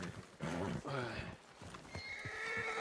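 A horse in the Red Dead Redemption 2 video game lets out a loud, close whinny, along with scattered hoof clops and game sounds, while a voice talks over parts of it.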